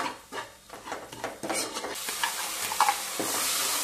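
Garam masala and turmeric being stir-fried in a pan, a close spatula scraping and stirring rhythm over a rising hot sizzle, with a faint clink of metal.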